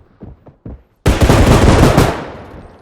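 A few faint thuds, then a sudden loud burst of rapid gunfire in a bodycam-style first-person video game that rattles on for about a second before trailing off.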